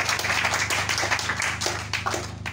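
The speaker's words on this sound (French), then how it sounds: "Donnons une grande acclamation à l'Éternel." A church congregation claps in steady, dense rhythmic applause, close and continuous throughout, with a low hum underneath.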